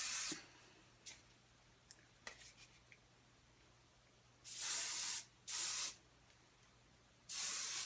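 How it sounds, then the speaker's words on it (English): Quick bursts of hairspray hiss from a can while an updo is being styled: a short puff and a few faint clicks early on, then three longer, loud sprays near the end, with quiet pauses between them. "I'm just going to spray,"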